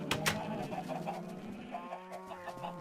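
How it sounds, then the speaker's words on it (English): Chickens cluck and squawk on a Minecraft chicken farm, several short, quiet, irregular calls overlapping at moderate distance, with no talking. "There's a chicken farm below here."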